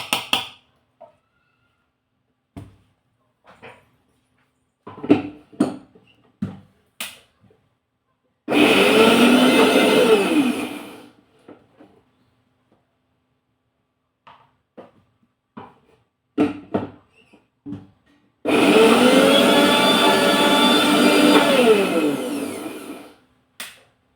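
A kitchen mixer grinds soaked white peas into a thick batter in two loud, steady bursts of whirring motor noise, separated by quiet stretches of scattered taps and clinks from the jar and spoon.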